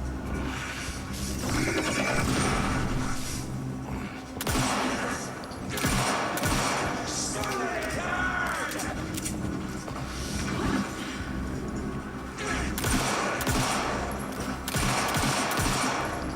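Dense, continuous automatic gunfire from a video game trailer shown at Summer Game Fest, loud rapid fusillades with short breaks, heavy and chaotic throughout.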